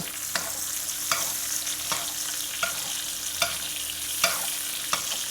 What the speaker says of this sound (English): So we're just gonna baste it for about a good 2 minutes.